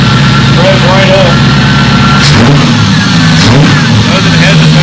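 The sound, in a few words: project car engine revving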